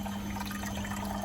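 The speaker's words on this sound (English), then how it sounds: "As it spins up, more water's coming out." A Beko washing machine on a cotton 60 quick wash spins up while water drains out, a steady close rushing flow under a constant motor hum with no pauses.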